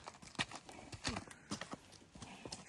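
Horse hooves clop on a hard surface in an uneven rhythm of sharp knocks, fairly faint, with quiet voices in the background at a horse sale.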